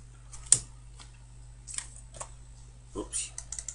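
Typing on a computer keyboard gives a few scattered key clicks and a short burst of quick taps near the end, all over a steady low electrical hum.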